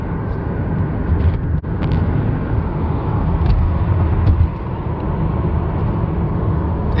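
Steady low engine rumble and road noise from inside a car driving toward the Skykomish River, continuous and fairly loud with a few faint knocks and bumps.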